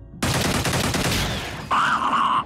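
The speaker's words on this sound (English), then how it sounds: "I'm gonna have him take a knee and then take the shot" Burst of gunfire from a soldier taking a kneeling shot in the turn-based game Xenonauts, followed by a sustained tonal whine after the shots.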